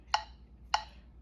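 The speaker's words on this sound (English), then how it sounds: "Using the metronome, it should sound like this." Two crisp metronome clicks marking eighth notes, evenly spaced and fairly faint, over quiet background hum.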